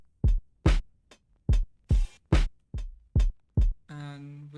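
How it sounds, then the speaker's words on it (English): Dry, unprocessed drums from a hip-hop beat: eight sharp, close hits alternating punchy kicks and snare cracks in a steady pattern, ending on a short sustained pitched synth tone. "without the processing, the drums basically sound like this"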